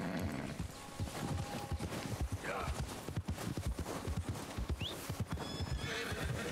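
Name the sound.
horse hooves and neighing in video game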